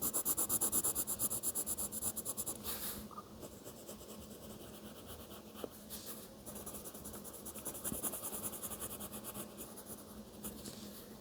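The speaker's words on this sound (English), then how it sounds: "now I'm going to go ahead and color in these feathers a second time, adding a second layer of that dark yellow color" Colored pencil scraping steadily across paper while a second layer of dark yellow goes onto a turkey's feathers, a close, continuous rubbing with short strokes and a brief pause, no talking.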